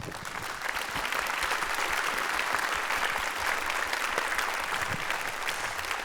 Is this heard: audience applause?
yes